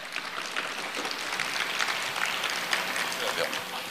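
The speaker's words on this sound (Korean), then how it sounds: "뜨거운 환영의 박수 부탁드리겠습니다." An audience at a university admissions information session applauds to welcome a speaker, a soft, steady wash of clapping from a hall crowd, fairly distant and even throughout.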